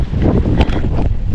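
Stormy wind outside a Prisma store in Finland batters the microphone with a loud, rumbling low roar and a sharper gust near the middle of the short stretch.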